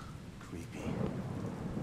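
Thunder rolls in over a steady downpour in the horror video game Blair Witch, the rumble swelling midway through a wet forest storm ambience with no talk.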